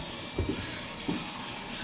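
Tap water runs into a pasta pot with starchy residue as it is washed in a kitchen sink, a steady close rush with a couple of brief splashes.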